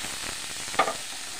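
Paneer spice masala mixed with water fries in a pan with a steady close sizzle, and a brief scraping stir cuts through it partway.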